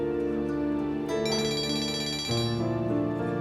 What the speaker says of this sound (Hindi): मम्मी का फोन आ रहा है, उठाना पड़ेगा